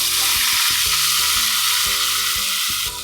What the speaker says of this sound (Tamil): இப்போ இந்த முந்திரி லேசாக இளமருப்பாக வறுத்தாச்சு